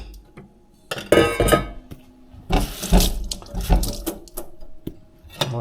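Food rinsed under a running kitchen faucet into a sink, with irregular splashing bursts of water and occasional clinks of dishes and glass, close and fairly loud with no talking.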